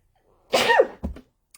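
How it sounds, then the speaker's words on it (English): A single loud, sharp sneeze close by, followed by a short breathy exhale. "I have been nothing but sneezing all day today"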